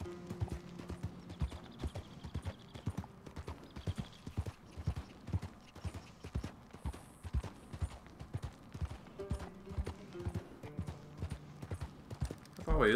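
A horse trots along with brisk, continuous clip-clopping hoofbeats in Red Dead Redemption 2, close and even, while a voice speaks over the gait and faint tonal game sounds drift in and out.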